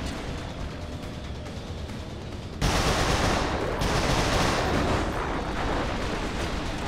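Carbine fire in the Resistance 3 video game pours out as a dense, continuous stream of shots that grows louder and more intense partway through, with no pauses.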